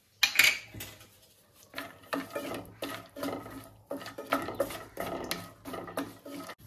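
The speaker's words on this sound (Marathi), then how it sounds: "आता मी 1 चमचा तूप पॅन मध्ये घालून घेते आणि त्याच्यामध्ये हे जे काजू आहेत ना ते मस्त असे गोल्डन असे परतवून घेते" Cashews stir in a spoonful of ghee in a pan for pineapple rice, a spoon scraping and clinking against the metal in repeated close strokes, with a soft sizzle between them and no voices.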